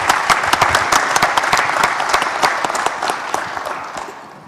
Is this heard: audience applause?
yes